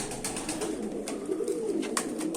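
Pigeons coo softly in a loft, low murmuring calls repeating under a steady hiss of background noise, with no one speaking.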